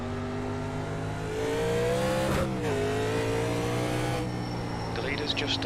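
A race car engine in the iRacing sim holds high revs with steady harmonic whine, dips briefly as it shifts, then climbs again, with faint tire noise near the end, while a voice talks over it.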